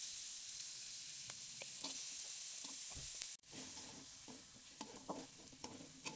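Onion sizzles in hot margarine in a wok while being stirred and tossed, with a steady bright frying hiss and repeated scraping clicks of a utensil. No one talks.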